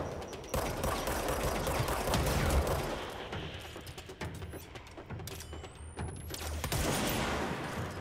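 Sustained gunfire from the action game Control, rapid bursts and broadband blasts running almost the whole time, loud and close with dense overlapping shots and no clear pauses.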